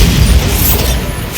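In Hogwarts Legacy on Xbox Series S, a Bombarda blasting spell detonates as a loud, close, rumbling explosion that fills the whole moment and slowly fades.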